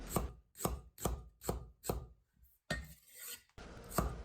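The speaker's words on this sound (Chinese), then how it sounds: "半根胡萝卜同样切片" Half a carrot sliced with a knife on a board for scallion oil: six crisp, evenly spaced chops at a steady rhythm, then a brief pause, a scraping sweep and one more cut, close and clear with no talking.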